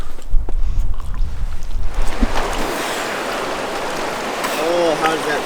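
River water rushes and splashes steadily during a wash in a cold river on a snowy elk hunt, with low wind rumble at the start before the broadband flow fills the scene.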